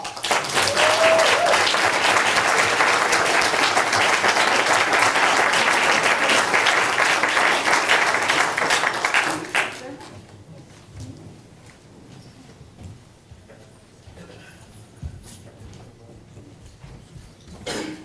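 Loud, dense applause from a school board meeting audience honoring the principals, sustained for about nine seconds before cutting off abruptly, followed by quiet room tone and faint murmurs.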